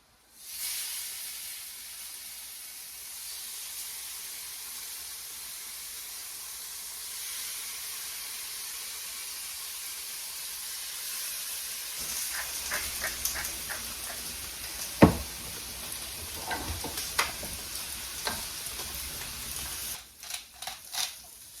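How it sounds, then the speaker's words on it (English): Fish grilling in a home kitchen, a faint steady hiss and sizzle running throughout, later joined by scattered clicks and clatter, with one sharp knock midway. "Let's grill the fish."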